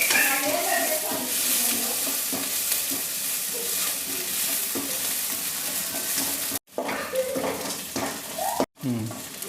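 Onions frying in hot oil in a pan while preparing chicken fry, a dense, steady sizzle that runs continuously, broken by two brief cuts near the end.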